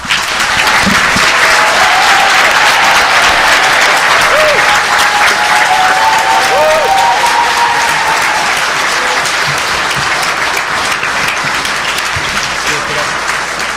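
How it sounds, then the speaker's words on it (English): Sustained audience applause for candidates after a 2013 legislative district assembly debate, a loud steady wash of many hands clapping that continues evenly from start to finish. "Can we give another round of applause for our candidates for such a spirited debate?"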